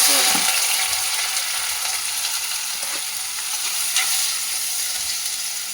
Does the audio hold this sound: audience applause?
no